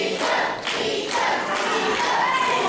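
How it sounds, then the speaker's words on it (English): Wrestling crowd at a Nightmare Before Crimbo show cheering and chanting, bursts of shouting swelling over a steady roar with a few thuds mixed in, loud throughout. "And the crowd getting behind Nico"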